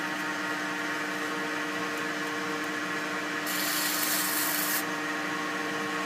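Glass paper sanding an ebony pen blank spinning on a wood lathe: a steady whirring motor hum with a continuous soft rubbing hiss that turns brighter and harsher for about a second near the end.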